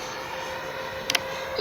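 An Arrows RC MiG-29 twin 64mm EDF model jet coming in to land, its whine a steady high hiss near the listener, with two brief clicks and a louder burst at the end.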